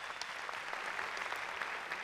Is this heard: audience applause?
yes